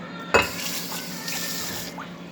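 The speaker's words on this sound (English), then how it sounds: "go ahead and rinse these out" Achicha and abacha ingredients rinsed under a running tap in a sink, a steady close rush of water opening with a sharp splash and clink, continuous throughout.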